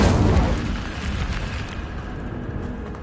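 Incendio fire spell cast in the video game Hogwarts Legacy: a loud, boomy burst at the start that fades into a crackling, roaring rumble with faint scattered pops, no voices.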